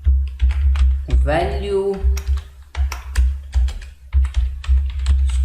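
C code is typed on a computer keyboard in quick, close, crisp clacking bursts with brief pauses, and someone speaks a single word partway through.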